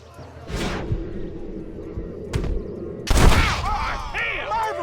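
Gunshots in the western game Red Dead Redemption, a few sharp booming blasts with the loudest near the end, mixed with a voice talking and shouting over the action.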